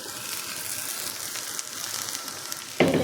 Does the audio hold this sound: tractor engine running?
no